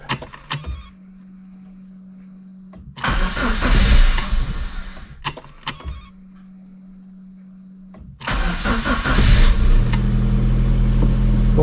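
A Lada car's engine cranks and starts twice with loud broadband bursts, the first dying out after a few seconds and the second catching and running steadily; a faint electric hum fills the quiet gaps.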